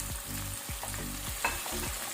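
Tomatoes frying in a pan with ginger garlic paste for a paneer broccoli dish, a steady close sizzle with repeated stirring scrapes throughout.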